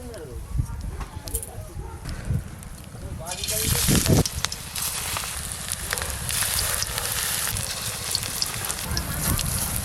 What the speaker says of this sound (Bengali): এবার সর্ষে ফুলের বড়াগুলো ভেজে নেব